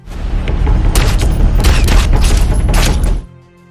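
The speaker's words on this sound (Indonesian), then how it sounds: "Ketika tim medis mendengarkan suara tembakan" A rapid burst of loud film gunfire, many overlapping shots in quick succession for about three seconds, then it stops abruptly.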